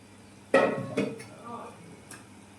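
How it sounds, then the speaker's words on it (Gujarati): Fried brinjals dropped into gravy in a metal pot, a sharp clatter followed by a few lighter clinks and scrapes of a spoon, close and fairly clear against quiet background. "અને હવે એમાં આપણે આ જે રીંગણા તૈયાર કર્યા હતા તળીને તે ઉમેરી દઈશું"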